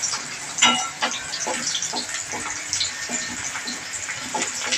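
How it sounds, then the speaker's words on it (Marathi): Garlic sizzling and being stirred in a hot pan on a home stove, a steady close hiss with scraping spoon strokes repeating throughout, no talk. "हे आपण लसूण चांगली परतून घेणार आहोत."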